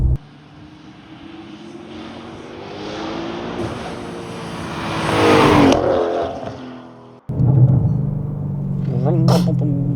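An Audi RS6 engine roars under hard acceleration with a rising pitch, then cuts off abruptly before a deep idle resumes and briefly revs again, loud and close from inside the car.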